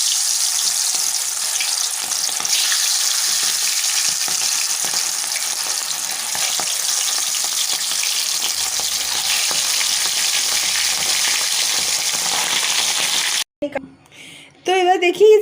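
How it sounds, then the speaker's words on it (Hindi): Pieces of fish sizzle and fry loudly in hot mustard oil in a kadhai, a dense, steady crackle close by that runs unbroken before cutting off abruptly near the end. "एक एक पीस हम डाल के इसको फ्राई कर लेते हैं"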